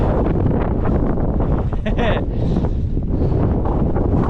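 Wind buffeting a microphone on a mountain summit in Wales, a loud continuous roar filling the whole stretch with no let-up.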